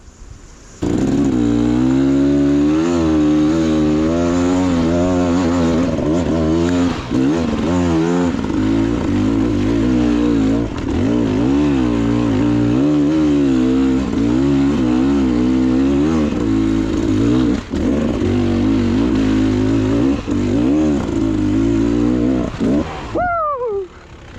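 A Beta XTrainer enduro motorcycle working up a dirt hill climb, its engine loud and close, repeatedly revving and bogging with wavering pitch before cutting off sharply at the end.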